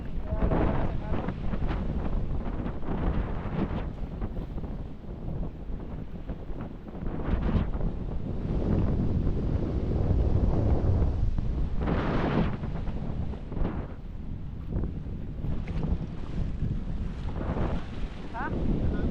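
Strong Pacific Ocean waves and gusting wind roar steadily, with wind buffeting the microphone and swells surging loudly throughout.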